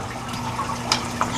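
Water leaking out beneath a wedged door sill during household flooding, a steady low trickling wash with a couple of faint drips, close and fairly quiet.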